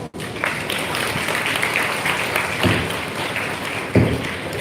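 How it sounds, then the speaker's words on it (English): Audience applause at a school event welcoming a Grade 5 student speaker: steady, dense clapping from a crowd, moderately distant, with a few louder individual claps and light thumps near the end. "Let's welcome her with a big round of applause."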